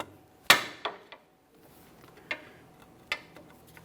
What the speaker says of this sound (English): To break this free, I'm just going to use a long pry bar and a hammer.